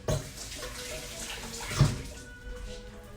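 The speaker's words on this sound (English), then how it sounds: "I'm gonna rinse my hands." Hands being rinsed under a running kitchen tap after slicing banana, a soft, steady stream of water with a couple of louder splashes as the hands move through it.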